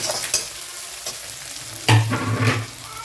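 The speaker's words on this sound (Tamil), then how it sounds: "நல்லா வதங்கிடுங்க இந்த ஆயிலே" Onions and chilli chicken sauté in hot oil for street-style chicken rice, with a constant sizzle broken by scraping stirs and a louder spatter as the pan is tossed.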